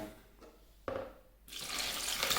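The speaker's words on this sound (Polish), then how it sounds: "na 1 litr wody daję 100 g soli. No i zalewamy." Water from a tap pours into a container of raw chicken legs to make a salt brine, a steady splashing stream that grows louder and fuller as the container fills.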